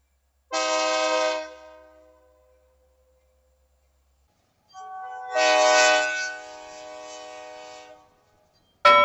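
Two long, loud horn blasts from a passing Canadian National freight train in Pembine, with rich harmonic tones, the first ending around two seconds, a second longer blast after a quiet gap, then a sharp burst at the end.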